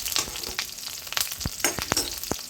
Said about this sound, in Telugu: నేనైతే ఇప్పుడు పచ్చిమిర్చి కూడా కొన్ని వేయించుకుంటున్నాను